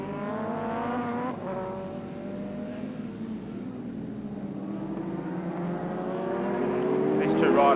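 Superbikes race at Oran Park in a 1982 Swann Series round, engines whining with rising and falling pitch as they rev and pass, moderately distant, under a commentator's continuous talk, growing louder toward the end.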